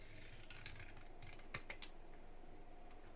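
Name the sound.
scissors cutting card for a craft box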